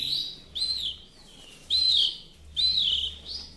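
Pet bird chirping: three or four bright, high whistled chirps in a loose rhythm, close and clear against a quiet background.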